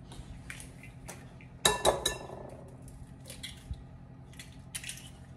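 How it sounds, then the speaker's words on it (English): Clinks and scrapes of a utensil against a bowl while mixing eggs for a three-ingredient bread, a sharp burst of clattering in the middle followed by softer taps in a quiet kitchen. "I want to mix this up first, the eggs, and then add the other ones in."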